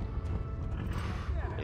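Hoofbeats of a horse galloping in the medieval game Kingdom Come: Deliverance, steady and loud over a dense low rumble, with someone talking over it.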